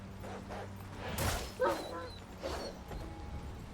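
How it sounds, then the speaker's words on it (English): A dog barks a few times at close range in Wuchang: Fallen Feathers, short yipping bursts over low background rumble, with no talk. "Dog up here."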